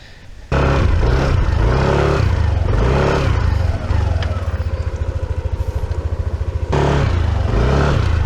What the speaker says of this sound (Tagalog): Dito ko na lang siguro ipepwesto yung motor sa gilid ulit natin dito.